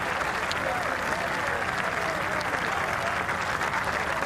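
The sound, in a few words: golf crowd applauding McIlroy's birdie putt at The Open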